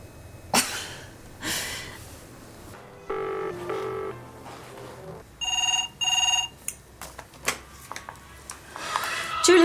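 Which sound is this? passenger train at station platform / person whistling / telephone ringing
telephone ringing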